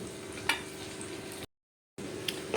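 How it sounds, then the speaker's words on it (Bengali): Ridge gourd and green chillies are turned over in hot mustard oil, a close steady sizzle with soft scraping stirs and a brief silent break. "এবার সব কিছু ভালোভাবে আরেকবার আমি নেড়ে চেড়ে নিচ্ছি"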